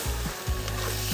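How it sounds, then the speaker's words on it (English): Cabernet Sauvignon hitting a hot short rib pan to deglaze the drippings, giving a steady close sizzle with a few stirring scrapes, loud and continuous with no voices. "It's gonna sizzle, and what we're gonna do is we're just gonna deglaze the pan"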